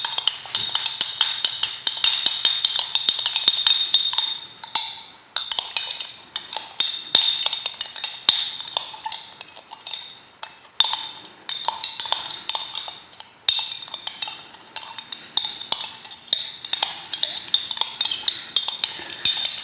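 A tool stirs powdered pigment into denatured alcohol in a container, giving a run of bright, close clinks and scrapes against the sides in irregular rhythm, with short pauses between bursts.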